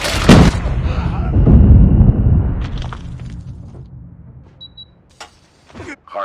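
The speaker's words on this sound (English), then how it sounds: "Friendly Predator missile." A Predator missile strike in Call of Duty Mobile hardpoint match: a loud booming blast with a sharp initial crack that rumbles and decays over a few seconds, followed by scattered quieter in-game clicks and effects.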